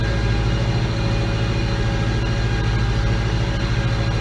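Tractor hauling a six-row Krause 4600 cultivator through a crop field, its heavy engine droning steadily and loudly under load throughout, with no talk.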